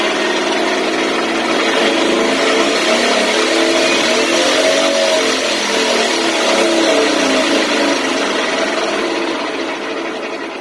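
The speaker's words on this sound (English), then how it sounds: "we give it some revs." An electric drive motor fitted in a narrowboat conversion revs up under throttle, giving a steady, loud whirring hum with a rough mechanical tone that holds fairly even throughout.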